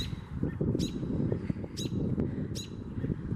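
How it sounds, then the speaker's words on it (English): Agitated birds near their nests behind an apartment building call repeatedly with sharp high chirps and squawks over a steady outdoor rumble, several bursts spaced about a second apart. "These birds are freaking out because I think we're getting close to their nests or something"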